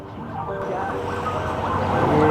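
An ambulance siren sounds on a busy city street in Almaty, Kazakhstan, its wailing tones rising and falling steadily over traffic noise and growing gradually louder.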